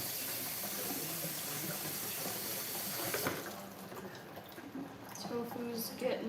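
A kitchen tap runs steadily while quinoa is rinsed under it, then the flow eases and turns to lighter splashing and trickling. The water is close and moderately loud, and faint voices may be heard faintly underneath.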